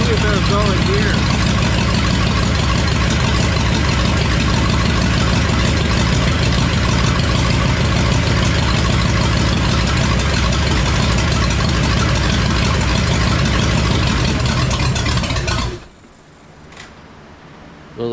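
A Ford F-100 truck with a swapped-in V8 engine runs steadily in gear, loud and close with a throbbing drone, then cuts off abruptly near the end, leaving near silence.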